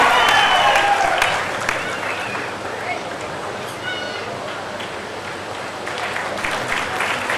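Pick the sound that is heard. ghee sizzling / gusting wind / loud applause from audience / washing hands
loud applause from audience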